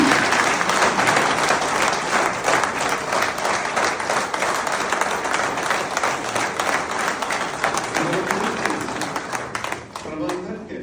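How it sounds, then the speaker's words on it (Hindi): Loud, sustained applause from the audience at a political party meeting in Lucknow, dense clapping that stays strong before easing near the end as a voice comes in. "एक बार उनके लिए जोरदार तालियों को"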